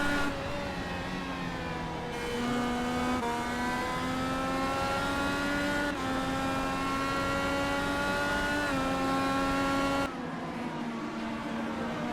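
Race cars at Watkins Glen in the iRacing sim roar steadily at close range, engine notes climbing through the gears with brief dips at the shifts, several cars audible at once.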